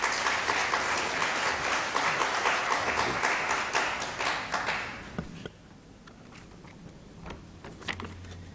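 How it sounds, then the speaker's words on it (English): A conference audience claps for a co-host walking up to speak, dense applause that holds for about five seconds and then thins into scattered claps and room noise. "Please clap for him as he's coming."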